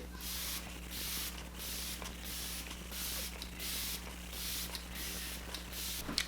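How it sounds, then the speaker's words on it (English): Repeated short hissing sprays of Morphe Luminous setting spray, about a dozen quick pumps in a steady rhythm, close to the microphone over a low electrical hum. "set the face with the Morphe Luminous setting spray"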